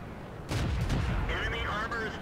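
A tank gun firing a high-explosive shell in the World of Tanks video game: one heavy, booming blast with a rumbling tail, followed by softer clattering impacts and whirring game noise, all at fairly constant loudness.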